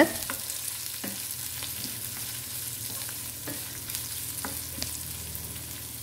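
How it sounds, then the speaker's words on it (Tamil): Onions sauté in a pan for a purple cabbage poriyal, giving a steady, close sizzle broken by a few sharp clicks of a spatula stirring against the pan. "வெங்காயம் சேர்த்துட்டு ஒரு 2-3 நிமிஷம் வந்து நல்லா வதக்கி விட்டுக்குவோம்"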